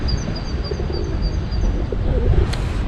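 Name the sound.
flock of pigeons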